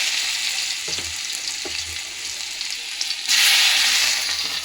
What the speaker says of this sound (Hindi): अब इसमें लहसुन का तड़का मारूंगी।